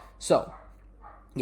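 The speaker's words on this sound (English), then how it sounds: "And sorry about my dog in the background." A pet dog barks twice in the background, two short sharp yips separated by a pause, heard indoors close to someone speaking briefly.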